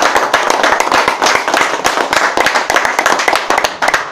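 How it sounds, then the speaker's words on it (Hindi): An audience at a health meeting in Surajkund claps in a fairly small group, sharp individual claps standing out in a quick, uneven patter that stays close and loud without pause. "अपने लिए तालियां।"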